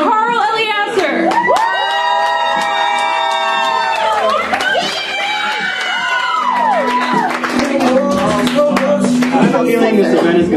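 A poetry slam audience erupts for a poet with loud whoops, shrieks and cheering voices over a bed of clapping. It is sustained and boisterous throughout, with raised voices shouting among the crowd.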